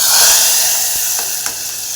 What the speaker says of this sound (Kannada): ಈಗ ಒಗ್ಗರಣೆ ಹಾಕ್ಕೊತ ಇದ್ದೀನಿ